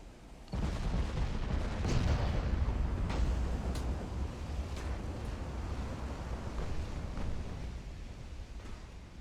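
Heavy naval gunfire from battleships in Ultimate Admiral: Dreadnoughts, a naval warfare video game, erupts in a loud, sustained rumbling barrage with deep booms and rolling blasts that starts abruptly and continues for several seconds.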